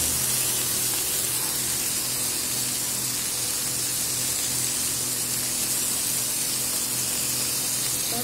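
Dry fish heads fry in hot oil with a loud, steady, dense sizzle that hisses without a break throughout, close up and with no voices.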